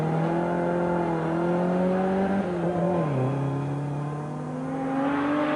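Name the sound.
Volvo P544 rally car driving on tarmac stage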